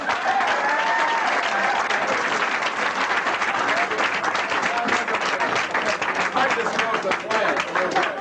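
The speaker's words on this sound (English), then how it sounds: "Let's have a big round of applause, Mr. Bob Saget!" A comedy-show crowd breaks into loud, dense applause for Bob Saget, steady clapping with scattered cheers and voices mixed in, holding at full strength throughout.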